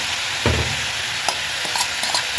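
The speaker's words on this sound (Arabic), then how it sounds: "اروح راميه عليها البصل اهو بسم الله." Chopped onions hit hot ghee in a pan with a loud burst of sizzling, settling into a steady fry with scattered pops and stirring scrapes while cooking an Egyptian fatta.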